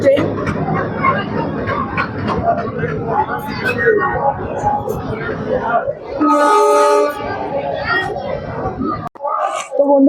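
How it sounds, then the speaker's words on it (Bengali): The Bagh Express 13019, Howrah to Kathgodam, pulls into a station platform with a low rumble of wagons and a loud horn blast midway, under almost constant nearby chatter. "এই যে ট্রেন হচ্ছে ঢুকছে"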